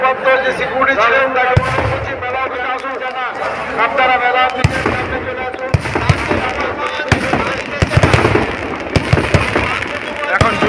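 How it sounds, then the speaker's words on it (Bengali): Fireworks display at the Ketikichi fair: crackling bursts and sharp bangs scattered throughout, largely under a loud amplified voice and crowd noise. "চলছে কেটিকিচি মেলার বাজি প্রদর্শনী"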